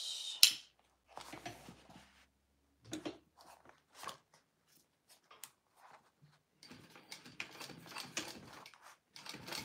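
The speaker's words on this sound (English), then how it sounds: "then we want to top stitch" A sewing machine top stitches fabric in soft, quiet bursts of mechanical whirring and clicking, with short pauses and a longer stitching run near the end.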